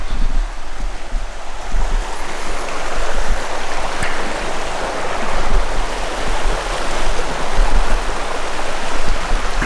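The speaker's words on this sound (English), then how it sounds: "By the river, beautiful." River flowing past a campground in Australia, a steady broadband rush of running water heard close and continuous, with no voices.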